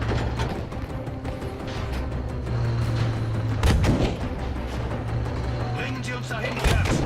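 Tank battle in a war video game, with artillery-like cannon shots and gunfire over a steady engine drone, several sharp blasts standing out; game voices talk over the action.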